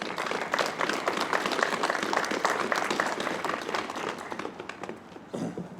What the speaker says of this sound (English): we deserve a big round of applause and thank you for their services